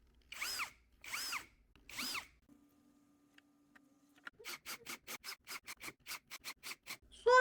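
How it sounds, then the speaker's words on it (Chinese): A power drill in electric screwdriver mode drives screws into a door hinge, up close. Three longer whirring runs come first, then a brief low hum, then a quick series of short, evenly spaced motor pulses as the screw is snugged in. "电动起子模式。"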